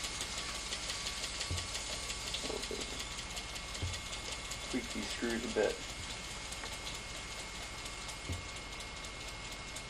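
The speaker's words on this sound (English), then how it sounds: "See, the engine's starting to speed up." A Weeden Model 20 toy steam engine runs while leaking steam, giving a steady hiss and soft mechanical chugging with a few light knocks throughout, close by and under a voice.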